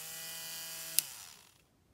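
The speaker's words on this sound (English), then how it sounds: "So I'm using a nail drill." An electric nail drill runs with a steady high-pitched whine, then winds down and fades to silence after a short click near the middle.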